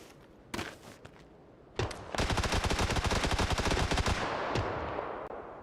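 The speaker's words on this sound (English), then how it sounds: "He's shooting this direction though." Gunfire in a video game, with a few separate single shots and then a long rapid burst of automatic fire that gradually fades, fairly loud and without talk.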